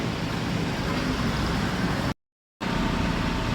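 Road traffic in Novaliches, Quezon City, as a loud, steady wash of car, bus and truck engines heard up close, broken by a brief dropout to silence before the roar resumes.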